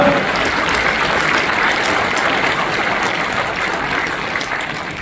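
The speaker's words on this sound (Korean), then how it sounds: "큰 박수 부탁드립니다" Dense, steady applause fills a Democratic Party members' rally for Naju and Hwasun in a large auditorium, a loud, sustained wash of many hands clapping with no break and no voices over it.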